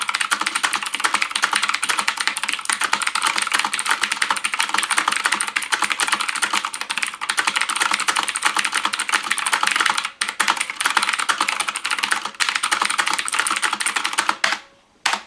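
Fast, continuous clicky typing on a mechanical keyboard with blue switches, sharp, crisp keystrokes, loud and close, ending with a few final clacks.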